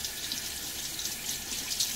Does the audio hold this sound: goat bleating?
no